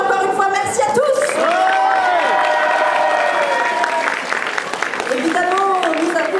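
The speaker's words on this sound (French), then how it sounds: "On les applaudit encore une fois, merci à tous." Audience at the 2018 CSFO cosplay contest awards applauds loudly for the contestants. Cheers, whoops and excited voices ring out over the sustained clapping.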